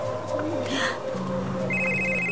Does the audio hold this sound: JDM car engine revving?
no